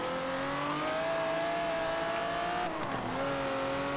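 A race car in a racing video game accelerates hard to overtake, its engine note climbing steadily and loudly, dipping briefly on a gear change, then rising again, with no voices.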